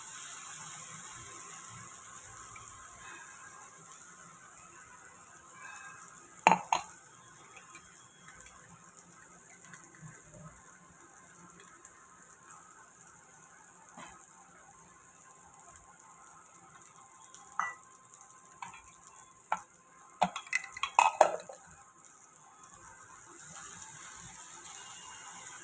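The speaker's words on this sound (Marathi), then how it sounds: "मसाला तेलावर छान भाजून घेऊया." Masala being roasted in oil for a crab dish, with faint low background sizzle broken by scattered spoon scrapes and clinks against the pan, busiest near the end.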